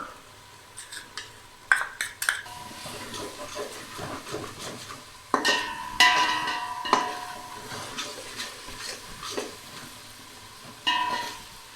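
Ground biryani masala for Chettinad chicken biryani sautés in a pan, a soft sizzle broken by sharp spoon scrapes and clanks against the pan at uneven intervals.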